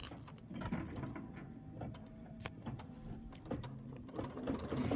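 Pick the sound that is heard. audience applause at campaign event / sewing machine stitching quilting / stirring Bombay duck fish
sewing machine stitching quilting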